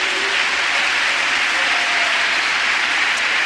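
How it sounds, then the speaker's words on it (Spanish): A dense, continuous roar of congregation applause during a church service, loud and steady throughout with no pauses. "Le damos un aplauso, Señor, mire qué vida más linda."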